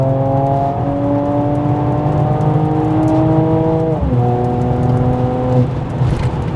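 Mercedes-AMG GT 43 pulling hard in sport mode, the engine note climbing steadily, then briefly dropping at a gear change before rising again, loud and close inside the car.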